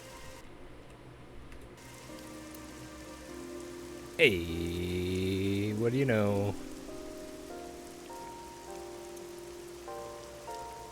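Rain pours steadily in AI: The Somnium Files, a constant patter that runs under a man's brief speech and bursts of tonal game sounds that rise and fade.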